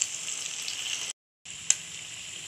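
Egg bondas deep-fry in hot oil until golden, giving a steady bubbling sizzle up close that drops out briefly, then resumes with a single sharp crackle.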